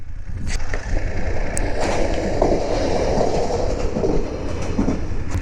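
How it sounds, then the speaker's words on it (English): A train rumbles past close by, a steady low roar with rhythmic clattering of wheels on track, heard alone without voices. "I was very lucky, so to speak, to catch a train pass."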